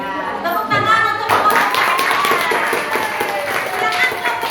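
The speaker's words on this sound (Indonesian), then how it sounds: "Tepuk tangan untuk" A group in a classroom bursts into hand clapping as a lesson on coaching for academic supervision closes. The dense, loud clatter swells quickly and holds steady, with voices talking underneath.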